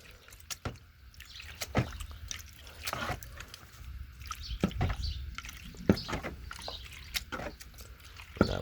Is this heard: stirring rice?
no